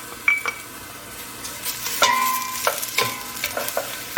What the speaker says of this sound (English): I am going to go ahead and add my onion. This is just 1 onion chopped up. Put it right in the oil.